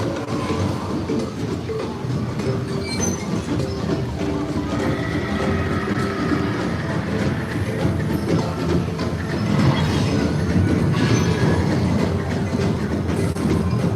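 Ride carts roll along the track of Mine-Cart Madness at Super Nintendo World in Epic Universe, a continuous loud rumble with rattling clatter and faint squeals building slightly toward the end.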